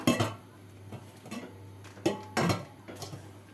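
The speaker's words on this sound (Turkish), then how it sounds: "bu da tencere kapağı" Gray cookware pot lid from a Karaca pressure cooker set being handled, a series of light metallic clinks and knocks spaced irregularly, moderately quiet over a low hum.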